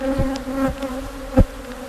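A dense cloud of honeybees swarms around their colony, a steady droning buzz close by with individual bees zipping past, one passing loudly near the end.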